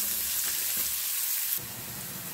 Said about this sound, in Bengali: তো আমার পেঁয়াজগুলো ভাজা হয়ে গেছে, রসুনও ভাজা হয়ে গেছে।